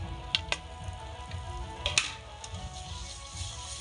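A spice masala sizzles and fries in a pan as chopped coriander is stirred in, a soft continuous crackle with a few sharp utensil clinks against the pan.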